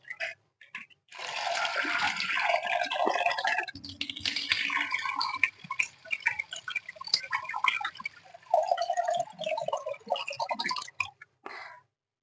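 Kidney beans (rajma) being rinsed in a bowl of water in a home kitchen, with close, steady sloshing and swirling splashes lasting about ten seconds and no voices.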